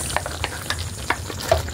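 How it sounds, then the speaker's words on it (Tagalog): Chicken afritada with carrots and potatoes sizzles loudly in a pan while being stirred, with steady frying hiss and a few quick spoon scrapes close up. "At haluin na po natin"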